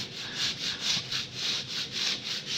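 A sanding pad rubs down easy fill on ceiling coving in a steady back-and-forth rhythm of about five even, close, raspy strokes with no talking.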